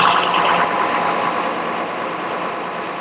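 A Mercedes-Benz OM926 diesel engine in a 2008 Thomas Saf-T-Liner HDX school bus idles with a steady, even hum, close and continuous, slowly easing slightly in level.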